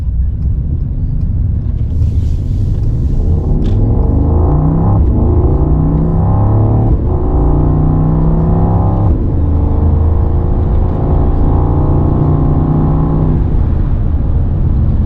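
Mercedes-Benz AMG GT55 accelerating hard on a road, its engine note rising through the gears with clear shifts, loud and close from inside the car, no talk over it.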